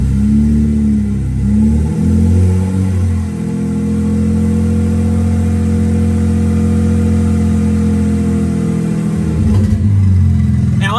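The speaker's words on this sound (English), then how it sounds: "I'll just let you listen to the engine a bit." A BMW N54 engine with forged internals idles with no exhaust fitted, a loud, steady, raw mechanical drone with a slight dip in pitch midway and a small blip near the end.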